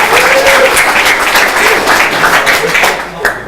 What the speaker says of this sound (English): I think we need to clap each other, for yourself